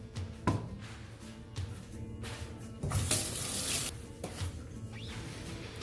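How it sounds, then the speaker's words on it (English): Water from a kitchen tap runs while hands are rinsed under it, a steady splashing flow broken by brief knocks and a louder gush midway. "Let me rinse my hands off real quick."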